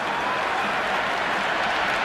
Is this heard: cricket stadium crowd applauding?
yes